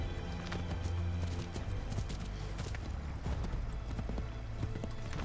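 Horse hooves clip-clop at a steady gallop in the video game Assassin's Creed III, with a brief whinny layered over the game's ambient sound and a moderately loud, continuous rhythm of hoofbeats.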